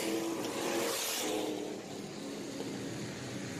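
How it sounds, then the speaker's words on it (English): Race cars on an oval raceway, engine roar heard from a distance as a car slows coming off a turn, a steady broad whooshing drone that fades slightly midway. "John Victor slowing, coming off of turn 2"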